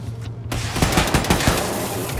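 Rapid bursts of gunfire from a weapon in Wolfenstein II, loud close shots in quick irregular succession after a brief quieter lead-in, with no talk.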